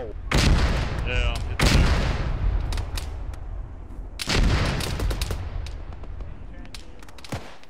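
In a video game, mortar shells land close by as three heavy booming impacts, each followed by a rumbling tail, with sharper cracks of gunfire scattered between them.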